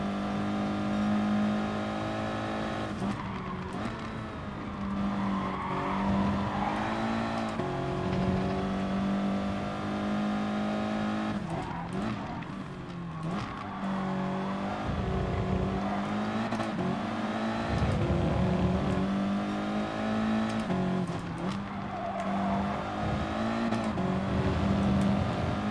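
Race car engines in Gran Turismo Sport, a steady droning whine from a car on track with another pressing close, pitch rising and dipping through gear changes and corners, loud and continuous with no talking.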